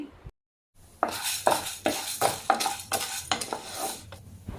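Chana dal roasts in a little oil in a pan as a spoon stirs it, giving a run of quick scraping and clinking strokes in a steady rhythm, close and clear, after a brief silent gap.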